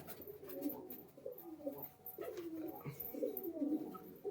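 A male high-flying pigeon coos in soft, repeated low throaty phrases close by, a steady run of rolling calls with brief pauses and no talking over them.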